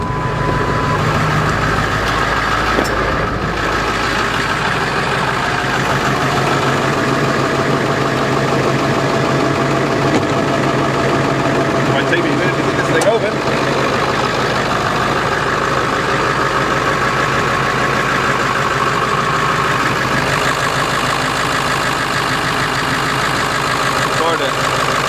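A lifted Ford F350 4x4 truck engine idles with a steady, low rumble, continuous and fairly loud throughout, with faint clatter on top.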